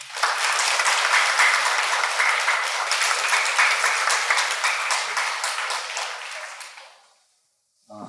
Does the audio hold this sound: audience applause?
yes